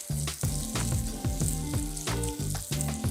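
Oil from sun-dried tomatoes sizzles and crackles steadily in a hot pan, close and loud, with rhythmic stirring or scraping strokes running through the frying.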